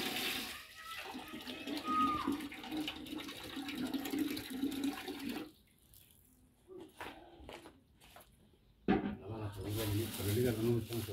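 Water gushes from a patio tinaco tank while pork is being cleaned, a loud rushing flow that cuts off midway, leaving clinks and handling noises before the running water returns.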